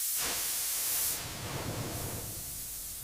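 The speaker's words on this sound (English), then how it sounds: "Liquid dye is atomized into a microscopic mist at the very top of the chamber." Industrial spray dryer tower, three stories tall, atomizing liquid cochineal dye into mist: a steady, loud broadband hiss that is stronger at the start and then settles into a constant rushing spray.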